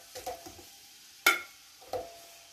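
Onions dropped into hot cooking oil for a large pot of chicken biryani, sizzling softly close by, broken by a few sharp clattering stir strokes.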